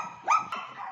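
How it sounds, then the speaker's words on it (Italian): A small volpino dog gives a single sharp bark, close and fairly loud, followed by a quieter yip-like sound. "Guardate che bravo cagnolino"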